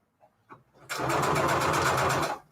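A sewing machine runs a straight stitch at 3.5 length for about a second and a half, a loud close steady whir with rapid rhythmic needle clatter, preceded by a few soft handling taps.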